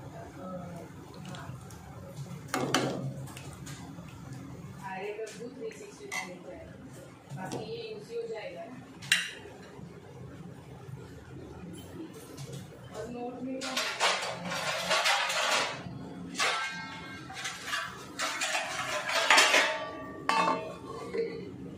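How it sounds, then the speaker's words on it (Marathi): A lid goes onto a pot of liver curry with a few metallic clinks and clanks, heard under steady talking in a home kitchen. "आता मी याला झाकून ठेवते।"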